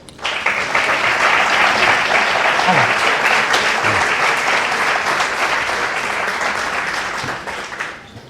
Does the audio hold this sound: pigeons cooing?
no